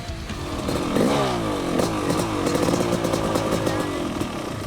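A brand new Yamaha YZ500 two-stroke motorcycle engine runs loud and close on a dyno, its raspy note rising and falling as the throttle is blipped, with no voices.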